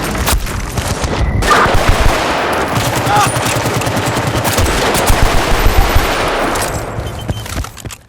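Sustained machine gun fire in Battlefield Bad Company 2, loud and continuous bursts with shots layered over each other, tapering off near the end.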